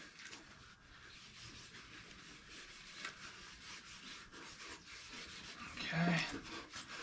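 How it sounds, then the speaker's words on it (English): Wood furniture is rubbed down by hand with Minwax Furniture Refinisher in a steady, close scrubbing rasp that swells near the end, and a voice speaks briefly. "Basically just rubbing this down really good."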